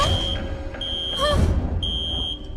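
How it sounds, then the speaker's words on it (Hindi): An alarm in a cartoon sounds as a steady high electronic tone that cuts off and starts again several times, heard over a busy background with a brief swooping effect partway through. "ये लो जी, अलार्म बजने लगा।"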